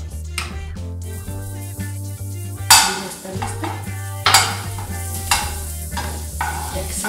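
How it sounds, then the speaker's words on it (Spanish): Butter melting in a hot frying pan gives a steady sizzle, with a spoon or utensil clattering and scraping against the pan in loud, close hits over a constant low background hum. "Se derrite nuestra mantequilla."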